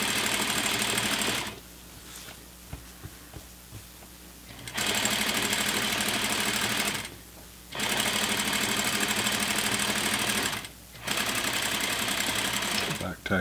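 A sewing machine stitches a pants seam with a quarter-inch allowance, sounding in three loud, steady whirring bursts separated by short pauses, with a person talking quietly during the gaps.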